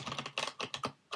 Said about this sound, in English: We'll give it a good shuffle.